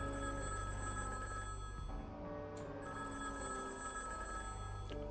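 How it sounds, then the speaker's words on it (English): An old-style telephone bell in the video game Higurashi When They Cry rings in two bursts separated by a short pause, a shrill, steady metallic trill heard faintly and alone. "From far away, I heard the ear-grating ringing of the telephone."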